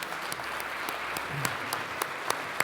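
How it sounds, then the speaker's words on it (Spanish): Audience applause welcomes a speaker, Gerry Garbulsky, at a corporate talk event, a steady patter of many hands clapping at moderate distance with a few sharper individual claps standing out. "Les pido un fuerte, fuerte aplauso para recibir con ustedes a Jerry Garbulski."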